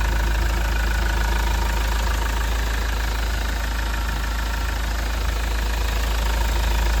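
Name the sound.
second-hand Mahindra Scorpio diesel engine idling after start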